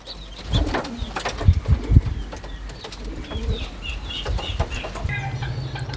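Pigeons coo and flutter outdoors at a flight site, with soft wing flaps and scattered calls over a busy background of ambient noise.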